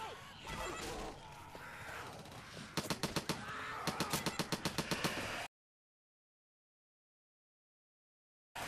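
Rapid bursts of gunfire in the zombie shooter game Left 4 Dead 2, a dense run of sharp repeated shots that stops abruptly into silence.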